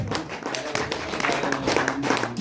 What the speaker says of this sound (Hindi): ओके सर, तालियां हो जाएं।